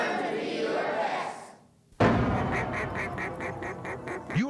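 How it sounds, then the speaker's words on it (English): Ducks quacking in a radio advertisement for duck hunting and express boats, a run of repeated quacks following a brief quiet gap, fairly close and clear against background ambience. "You're a duck hunter, and duck hunters know you have to go to the ducks."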